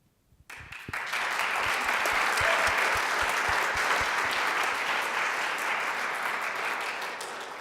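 An audience at a women's sports summit applauds a panel, a few scattered claps quickly swelling into loud, sustained clapping from a large crowd that holds steady, then begins to taper off.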